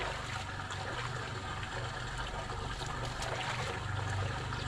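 A water pump sucks muddy water, steady rushing, gurgling water with a constant low mechanical hum underneath, continuous and fairly close.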